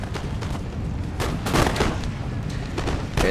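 Cannon fire in an Empire: Total War battle from a Polish campaign: repeated booming artillery shots roll out over a dense, continuous din of battlefield noise, with several strong blasts bunched mid-clip and another near the end.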